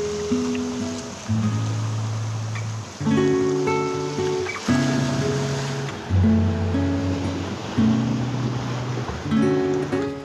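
Sea waves wash steadily against Praia dos Meros on Ilha Grande, a continuous broadband surf rush sitting beneath louder melodic music throughout.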